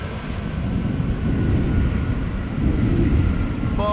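An airplane landing at Schiphol Airport gives a steady, loud engine roar with a deep rumbling low end that holds and swells slightly throughout, heard from fairly near with no voices.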